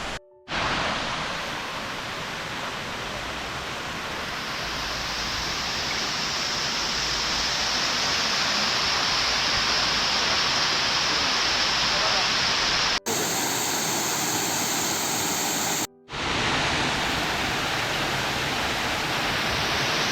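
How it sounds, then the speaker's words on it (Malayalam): Vattavada waterfall near Munnar roars with dense, steady rushing water, loud and close throughout, with a couple of brief cuts in the middle. "അങ്ങനെ നമ്മൾ വട്ടവട വെള്ളച്ചാട്ടത്തിന് എത്തി ഗൈസ്."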